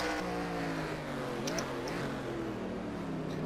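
NASCAR Xfinity Series race cars roaring at Road America in 2016, engines droning loudly and continuously with rising and shifting pitch as cars pass close by during a late-lap battle.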